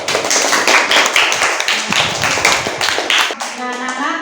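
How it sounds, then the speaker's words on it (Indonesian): A classroom group applauds the auditory discussion group, a close, steady patter of many hands clapping that fades and gives way to a voice. "kasih aplaus dulu untuk kelompok auditori"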